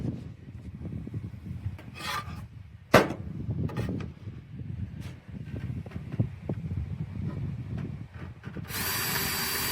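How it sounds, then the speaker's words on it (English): A power drill with a large bit bores holes through a square-foot garden template outdoors, heard as rough, grinding bursts that start and stop, with a sharp whirring rise near the end. "put it in the chuck. And I'm going to take this outside and drill it."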